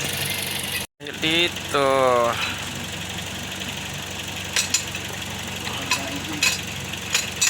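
Toyota Vios engine with overheating symptoms idles and revs while coolant bubbles and gurgles; revs rise briefly early on, steady idle with a few sharp clicks, people talking over it.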